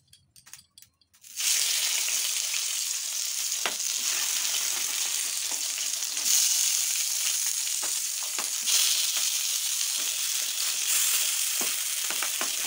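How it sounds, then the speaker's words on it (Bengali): Hilsa fish wrapped in banana leaf sizzles loudly in hot oil on a tawa, a steady bright frying hiss that starts after a second of quiet handling noise and continues without pause, with occasional crackles and pops. "তো এরপর আমি ভেজে নেব এই তাওয়ার মধ্যে।"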